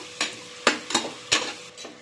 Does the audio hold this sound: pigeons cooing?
no